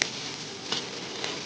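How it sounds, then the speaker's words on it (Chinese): Lamb offal stir-fried over high heat in a hot wok, a steady dense sizzle with occasional sharper crackles and spatula clinks, close and continuous. "羊杂放，开始火了火了，爆炒"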